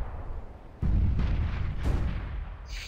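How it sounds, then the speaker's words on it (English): A grenade blows up in the CS:GO shooter, a booming in-game explosion that bursts suddenly after a short quiet and rolls on with a second swell of rumbling blast, loud and close. "Grenade out."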